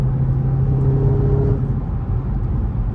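A supercharged Dodge Hellcat is driven through afternoon traffic, its engine giving a loud, continuous rumble with a steady supercharger whine held over it from inside the car.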